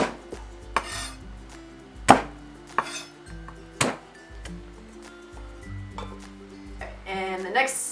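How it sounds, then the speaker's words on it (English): A knife cuts through unpeeled turmeric root on a board, then the pieces are smashed, giving several sharp, close thuds and knocks at uneven intervals with light clinks between them. "I'll cut it into maybe 3 pieces and then smash each piece."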